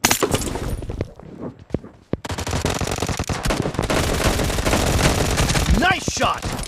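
Dense bursts of video game gunfire fill the clip, with rapid automatic-weapon fire and sharp shots running almost continuously after a brief gap near the start, loud and close.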